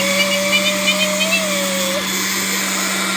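A blender whirs steadily while mixing banana custard for banana pudding, a constant motor drone with a rising whine, loud and close, with a voice speaking over it.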